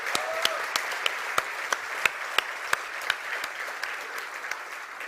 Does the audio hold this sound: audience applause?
yes